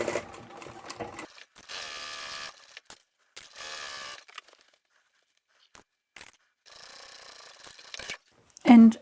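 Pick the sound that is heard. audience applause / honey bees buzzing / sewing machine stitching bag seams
sewing machine stitching bag seams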